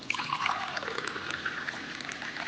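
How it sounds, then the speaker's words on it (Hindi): Water pours steadily into a collapsible silicone glass with a continuous, close, soft trickling and splashing and no talking. "डालिए पानी, बाबा थोड़ा थोड़ा"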